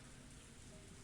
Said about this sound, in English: But I didn't think it would rain so hard.